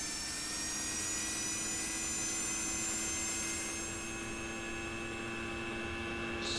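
An AV-8B Harrier jet engine in the Falcon BMS flight simulator runs with a steady, loud whine and drone that holds almost unchanged throughout, carrying a sustained tonal hum with no voices.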